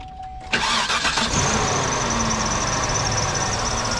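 A Cadillac Seville engine cranks briefly, catches, then settles into a steady close idle with a faint high whine.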